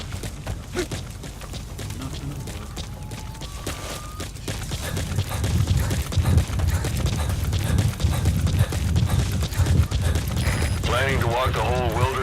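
Horse hooves clatter in a galloping rhythm in the video game Metal Gear Solid V, a steady clip-clop that grows louder partway through, with game sounds and a voice speaking near the end.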